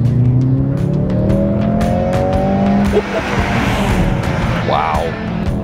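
A Mercedes-AMG GLC63 S E-Performance hybrid accelerates hard in Race mode, its engine note climbing loud and close through rising gear pulls with a brief dip at a shift, then a short tire chirp near the end.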